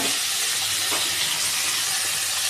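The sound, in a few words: cauliflower sautéing in a pan for Tamil gravy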